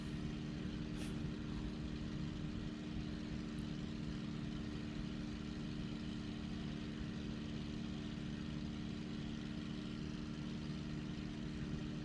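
A P-51 propeller fighter in Microsoft Flight Simulator, flown in VR away from a hurricane toward Cancun, gives off a steady, unbroken engine drone with a low rumbling hum throughout.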